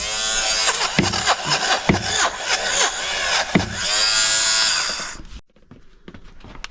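Electric lint remover running after its blade is cleaned: a close, loud motor whine with bursts and rasping pulses as it passes over fabric, then the motor cuts out and quieter clicks and handling follow.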